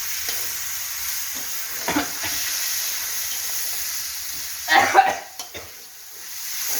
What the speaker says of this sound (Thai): เอาการใส่เบคอนลงไปเลย เพื่อเป็นการรีดน้ำมันให้มันออกมาไวๆทุกคน